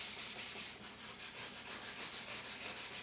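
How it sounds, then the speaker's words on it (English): Hand sanding along the sides of old wooden piano keys from a roughly 130-year-old piano, a steady close scratchy rubbing in quick repeated back-and-forth strokes, with no talking. "So I do a little bit of sanding by hand on these sides"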